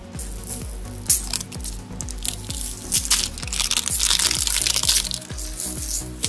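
Candy packaging for a Baby Bottle Pop Rattlers is handled and opened, giving a run of close, loud crinkling and crunching plastic sounds with repeated sharp rustles and cracks throughout.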